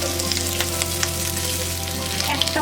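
Chopped onion fries in a pan while making egg chilli, giving a steady, close, continuous sizzle with light crackling and no voices.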